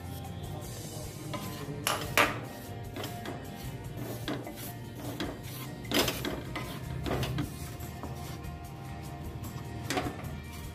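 Gram flour (besan) being roasted in a pan, with a spoon stirring and knocking against the metal in irregular clinks and scrapes over a continuous low background, close by.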